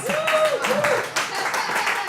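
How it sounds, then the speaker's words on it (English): Comedy club audience in a full room clapping, a dense burst of applause with laughter, loud and close, dipping briefly midway before swelling again. "There's a full room clapping because it's true."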